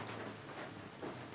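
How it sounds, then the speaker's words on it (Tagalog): Rain falling outdoors, a faint, even wash of patter that runs steadily through the short stretch with no voices. "Bye-bye, rain, rain."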